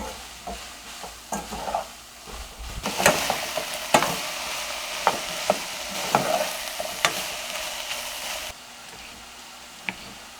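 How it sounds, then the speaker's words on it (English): A spoon scrapes and stirs Tex-Mex seasonings through a pan of nachos mixture, giving close, irregular clicks and scrapes over a soft sizzle. "Give it a stir."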